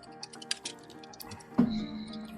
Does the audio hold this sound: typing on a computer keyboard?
yes